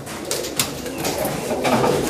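Pigeons coo close by in a loft with soft, repeated throaty calls over a busy background of other birds.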